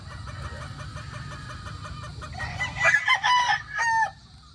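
Gamecock rooster, a Raptor signature line broodcock, crowing nearby over a steady low background hum, the drawn-out call rising loud near the end.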